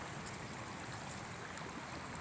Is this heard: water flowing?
yes